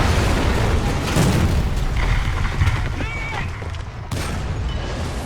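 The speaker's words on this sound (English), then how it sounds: "Gonna drop an artillery strike." An artillery strike lands in a tank video game, a deep rumbling boom among continuous battle noise and engine drone, dense and loud, with a sharp break near the end.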